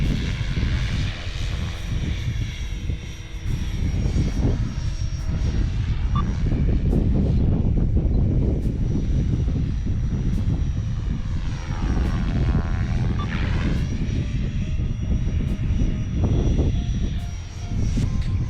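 An Align Trex 500 RC helicopter is flown through piro flip practice, its steady, loud rotor and motor whine rising and falling in pitch as it maneuvers, continuous for the whole stretch with no talking.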